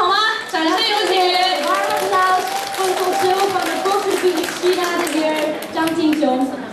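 An audience claps to welcome an embassy counsellor onto the stage at the inauguration ceremony of the Netherlands China General Chamber of Commerce. The steady applause runs under a voice speaking over it.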